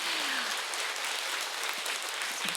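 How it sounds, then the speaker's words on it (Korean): Audience applause at a talk concert on life and human dignity: a steady, dense wash of clapping that fills the whole short stretch with no voices over it. "박수 한번 주십시오"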